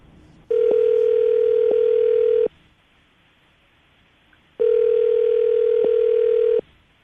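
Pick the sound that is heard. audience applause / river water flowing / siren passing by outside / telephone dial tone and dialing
telephone dial tone and dialing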